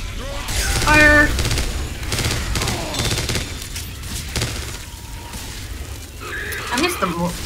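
Video game gunfire from Left 4 Dead 2: bursts of rapid shots with booms and clattering mechanical sounds against the chaos of a zombie fight, with players talking over it.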